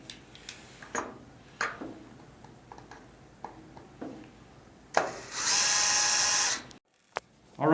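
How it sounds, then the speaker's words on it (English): A screw comes out of a Kwikset SmartCode 916 deadbolt with scattered clicks and taps, then a short burst of a whirring power driver and a final click. "So I'm going to pull out the screw and get started."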